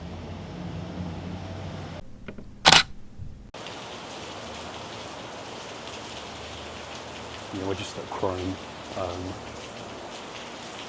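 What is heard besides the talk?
rain falling outside a shop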